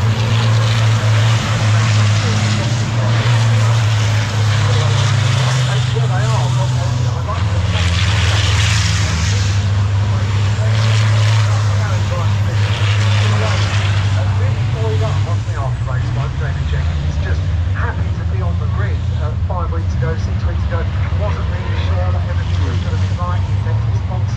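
Racing trucks from the British Truck Racing Championship lap the Brands Hatch circuit, a loud, continuous low engine drone rising and falling as the trucks pass, with a commentator talking over it throughout.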